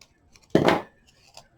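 A pair of scissors makes one crisp, close snip through paper for a Halloween craft, a brief sharp cut with quiet handling noise around it.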